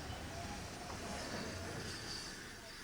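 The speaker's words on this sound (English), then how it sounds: "The 4500 class is running round a branch train, using the head shunt alongside the main line." A model 4500 class steam locomotive on a scale layout runs round a branch train, giving a continuous rolling rumble with a thin metallic wheel squeal, steady and fairly close throughout.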